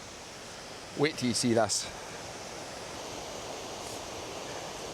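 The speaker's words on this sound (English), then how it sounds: "You just hear that raw power of water coming over it." Rushing river water at the Falls of Linn in Ayrshire, a steady broadband roar that fills the whole clip, with someone speaking briefly over it near the start.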